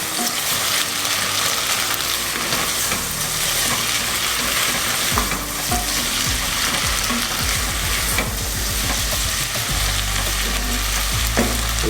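Pernod sizzling steadily in a pot as its alcohol cooks off for a Mediterranean fish soup, a loud, continuous frying hiss with a few stirring scrapes and no talking.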